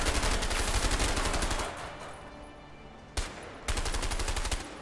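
Gunfire in the video game A Way Out, a dense rapid burst of shots that stops abruptly, then two more short loud bursts after brief pauses, with no talking.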